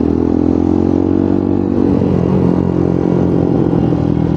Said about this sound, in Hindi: और एग्जॉस्ट भाई अपना महंग भाई का बहुत लाउड है और अपना भी लाउड है